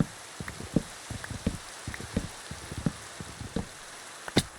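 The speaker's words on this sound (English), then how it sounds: "You know, the rain is a little loud," Rain falls in Minecraft, a hiss of scattered droplet ticks and patters pattering at an irregular rhythm for several seconds, close and fairly loud, with no talking.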